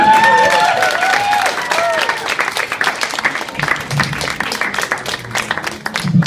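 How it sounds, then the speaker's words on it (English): A comedy-club audience at Hofman Cafe in Utrecht applauds a stand-up comedian, loud continuous clapping with some cheers and a voice briefly over it at the start. "Give him another round of applause."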